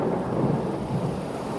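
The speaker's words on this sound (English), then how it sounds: "a sudden crack of lightning splits the sky" Thunder from a storm over a dark fortress on a cursed isle, heard as a loud, close, continuous rumbling roar with rain mixed in, sustained at steady intensity with no break.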